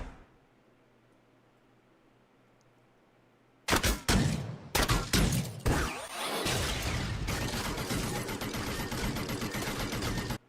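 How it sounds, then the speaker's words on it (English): A Wild Rift champion skin that fires little Lego-like bricks: after a near-silent stretch, loud clattering bursts break in, then settle into a dense, continuous rattling volley. "Is he shooting little Lego bricks?"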